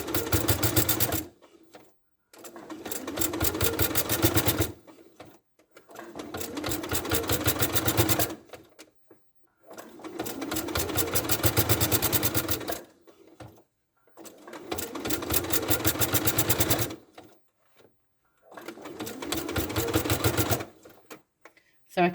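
Domestic sewing machine stitching soft fabric for a ladybird soft toy, in five rapid rattling bursts of several seconds each with short pauses between, close and clear.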